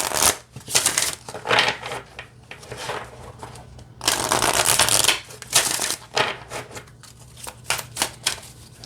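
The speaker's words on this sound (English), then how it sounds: "Shuffles fine this way too." An oracle card deck is shuffled by hand in repeated bursts of crisp riffling and snapping card noise, with short pauses between them. It is heard up close and fairly quiet.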